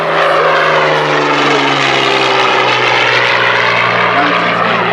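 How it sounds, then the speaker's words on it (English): A Curtiss P-40 Warhawk propeller fighter takes off at an air show in Apple Valley, its engine drone loud and steady throughout with a sustained low hum, and a voice talks faintly underneath. "Now the P-40 Warhawk, like you see taking off"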